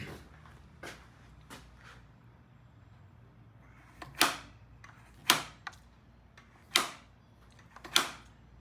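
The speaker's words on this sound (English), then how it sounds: "the carburetor is remounted and has real good throttle action." A cleaned Mikuni carburetor's throttle snaps open and shut on a workbench, giving a series of sharp, close mechanical clicks and clacks spaced about a second apart, with no talking.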